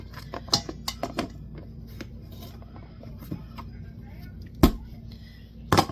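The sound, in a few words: oats spilling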